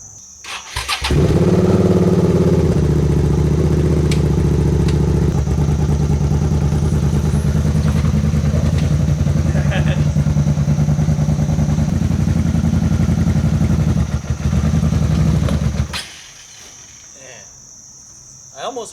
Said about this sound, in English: I know the engine's basically idling, but it should have more torque than that.